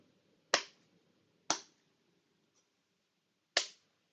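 Fresh basil leaves are clapped between palms over a pasta sauce, giving three sharp, dry slaps at uneven intervals, close and isolated against near silence.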